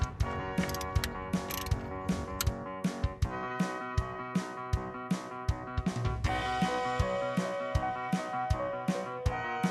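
Rapid ratchet wrench clicks tightening the idle pulley bolts on a 1993 Jeep Cherokee, near and loud, in repeated bursts of clicking with short pauses between strokes, no talk.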